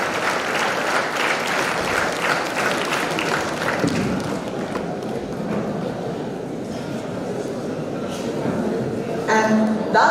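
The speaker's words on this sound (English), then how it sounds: "I would like to give a round of applause for those who have created that video." Audience applause at a college pharmacy week celebration in Ooty, India, steady and sustained clapping from a large crowd that fills the hall for the whole stretch, with a brief voice near the end.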